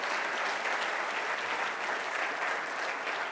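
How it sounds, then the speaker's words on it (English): Audience at a US Embassy conference in Dublin breaks into sustained, steady applause, a dense wash of many hands clapping close by with no pauses throughout. "So I think we all give him a warm round of applause."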